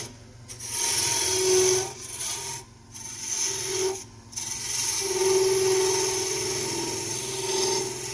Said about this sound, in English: before we put it on our ring, we're just going to sand each side down